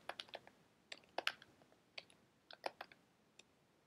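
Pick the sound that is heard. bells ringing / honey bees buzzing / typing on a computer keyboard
typing on a computer keyboard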